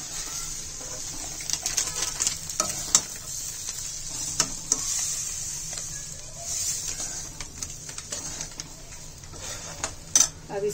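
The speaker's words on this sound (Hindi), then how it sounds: "अब इसमें डालेंगे हम सूजी। अब इसको अच्छी तरीके से भूनेंगे।" Semolina (sooji) for upma being dry-roasted and stirred in a pan, a steady close scraping with occasional clinks of a utensil against the metal over a faint sizzle, no voices.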